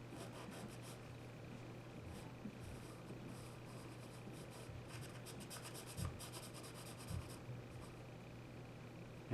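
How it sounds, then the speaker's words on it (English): Hard charcoal pencil drawing on paper during a charcoal portrait lesson, a soft continuous scratchy rubbing with faint strokes, close and quiet, with a steady low hum underneath and a few small knocks. "And first I'm using my hard charcoal pencil."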